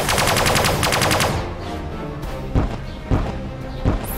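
Laser weapons firing in the space-combat game Sunrider: a dense rapid stream of buzzing blasts that fades into a sustained hum, then a few separate loud thumping impacts.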